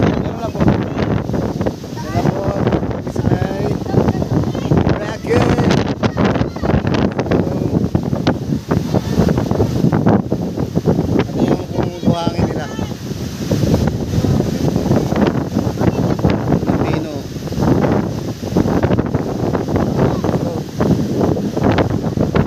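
Strong wind buffeting the microphone at the seaside in Boracay, a continuous loud roar and rumble with surf underneath, with people talking now and then throughout.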